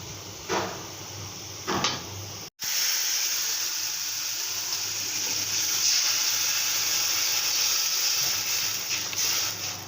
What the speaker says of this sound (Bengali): এখন আমি ডালটা বাগা দেব।